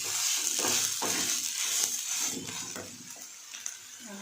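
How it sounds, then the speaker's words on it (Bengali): Onion and beetroot paste frying in a pan while being stirred, a steady close sizzle broken by repeated scraping stirs throughout, with no talking. "এটাকে ভালো করে ভেজে নেব"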